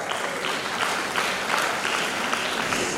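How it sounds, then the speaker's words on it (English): An International Women's Day audience claps for itself in a steady, full wash of many hands, continuous and even throughout with no voices over it. "Can we clap for ourselves?"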